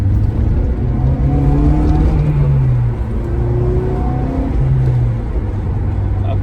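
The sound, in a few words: Acura RSX car driving onto the freeway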